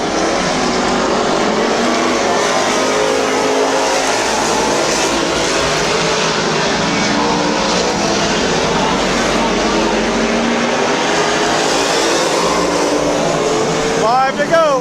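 Race cars roar around the track at Midvale Speedway in a loud, continuous engine din heard from the stands, with talk mixed underneath.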